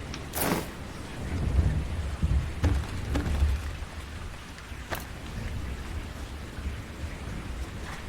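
A storm in the video game Viking Vengeance brings steady rain hissing over a low rumble, with a few sharp cracks of thunder standing out at a moderate level.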